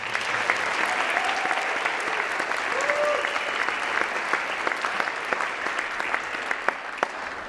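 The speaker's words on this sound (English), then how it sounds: "Let's give them a round of applause too." An audience at a North Country Carol holiday show applauds the production crew with a sustained, full roar of clapping. Sharper individual claps and a few faint voices poke through as it carries on.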